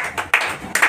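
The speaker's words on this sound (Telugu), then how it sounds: "చప్పట్లు కొట్టండి" A few sharp hand claps from a small group, in two or three short bursts of applause within under a second, fairly close and moderately loud.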